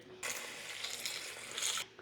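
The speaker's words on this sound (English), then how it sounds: "you're going to put just enough water to cover everything" Water pours into a pot to cover salsa verde ingredients, a steady close splashing rush lasting under two seconds that starts and stops abruptly.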